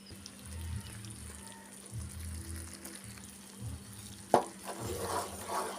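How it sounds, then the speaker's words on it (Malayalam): Grated coconut and jaggery syrup with cardamom and cumin stirred in a pan, soft low scraping strokes in a slow rhythm, then a sharp clink and bubbling sizzle, faint and close. "നല്ലതുപോലെ ഇളക്കി കൊടുക്കുക"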